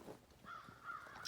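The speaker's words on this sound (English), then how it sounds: "you can hear the crows." Crows caw near a cabin on a holiday weekend, a couple of harsh calls heard faintly against a quiet outdoor background.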